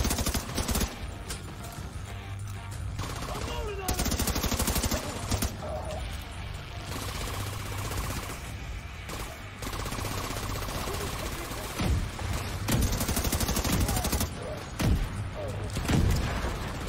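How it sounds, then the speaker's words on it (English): Rapid bursts of gunfire and heavy explosions in the video game Tom Clancy's The Division 2 on Xbox One pound continuously, dense and loud, with a few brief gaps between the volleys. "Ah, what's with all the explosions?"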